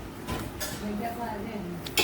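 A spoon inside a sugar container clinks against it in a kitchen, giving a few light metallic taps and a sharper clink near the end, under faint household noise.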